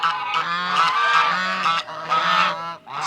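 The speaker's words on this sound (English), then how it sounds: "Stupid geese." Geese on a pasture honk loudly and repeatedly at close range, a steady run of harsh overlapping calls with brief pauses between bursts.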